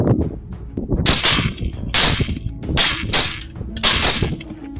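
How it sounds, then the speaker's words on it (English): Four or five sharp, loud shots fired at a herd of wild boar, cracking in a rough rhythm about a second apart. "A volley of shots erupted simultaneously, and the herd was subdued in an instant"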